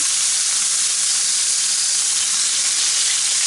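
Finely shaved venison steaks sizzle loudly and steadily in a cast iron pan, a dense continuous frying hiss heard close up with no talking.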